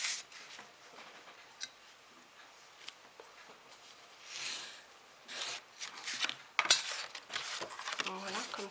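Scissors cut a small lace doily on the bias, giving close, soft snipping and rubbing sounds in short bursts, with a brief sharp clack near the end and a quiet background.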